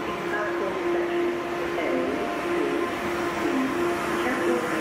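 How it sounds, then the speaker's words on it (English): Train arriving at a platform in Frankfurt main station, a continuous rumbling roll with squealing brake tones, heard in a large station hall, with people talking in the background. "Caution. The train is arriving."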